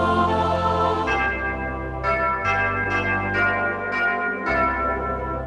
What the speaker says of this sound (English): we get a beautiful choir and the chimes in the bottom.